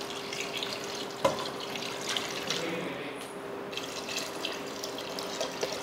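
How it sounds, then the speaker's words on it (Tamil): Water poured into a pressure cooker holding dal and rice, a continuous splashing, hissing pour with a brief clunk near the start, steady and close throughout. "இப்போ தண்ணி சேர்த்துருவோம்."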